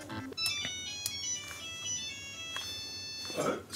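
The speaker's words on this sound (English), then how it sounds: "Pete, switch your phone off." A mobile phone rings indoors, a repeating electronic ringtone melody of bright tonal beeps at moderate volume, sounding several times in a row with faint room noise beneath.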